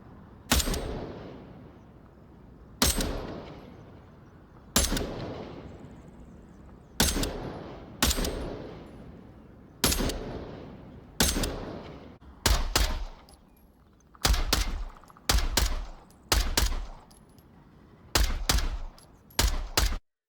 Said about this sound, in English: I could shoot down some faraway targets in Onward.